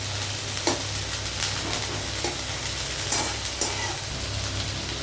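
Small pieces of capsicum and onion fry with a steady sizzle while a spatula stirs them in the pan, its scraping strokes landing every second or so, close up and fairly quiet, with no talking.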